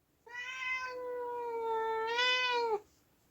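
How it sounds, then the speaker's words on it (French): A cat lets out one long, drawn-out grumbling meow, close and fairly quiet, rising in pitch at the end before cutting off, with no other sounds around it. "Vraiment le chat le plus râleur du quartier quoi."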